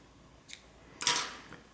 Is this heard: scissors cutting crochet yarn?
yes